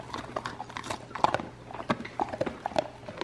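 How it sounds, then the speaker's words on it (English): Dogs chewing a treat at close range, with irregular crunches and snaps scattered across the clip at a moderate level and no speech. "All I hear is crunches."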